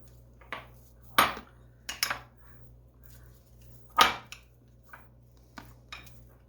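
A spoon clinks and scrapes against a bowl while softened cream cheese is mixed, a handful of sharp taps and scrapes spread irregularly over a quiet background hum.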